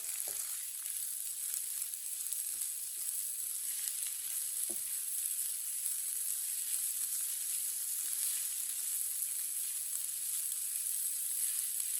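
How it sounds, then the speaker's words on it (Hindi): Boiled chicken pieces, broken small, sizzle steadily in a hot pan as they are mixed, a constant bright frying hiss with a few soft scraping stirs, no talking. "अच्छी तरह मिक्स कर लेते हैं चिकन को।"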